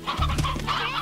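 Chickens cluck in the farming game Slime Rancher, a steady run of close, fairly loud clucks over about a second with no talking.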